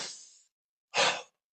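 Two exaggerated breaths during a karate breathing exercise, a long fading exhale followed after a pause by a sharper, louder forceful breath, close and alone with no talk.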